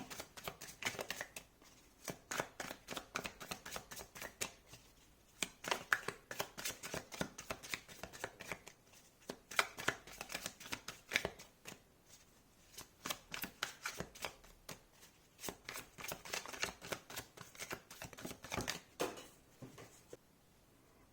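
A deck of tarot cards being shuffled and cut, heard as repeated bursts of quick, close papery riffling separated by short pauses at a fairly quiet level, with no speech.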